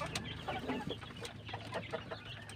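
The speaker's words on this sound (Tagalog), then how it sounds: "So ayan po sila mga kapanok." Chickens clucking softly and fairly close in a backyard coop, a few short clucks scattered over a quiet background with no speech.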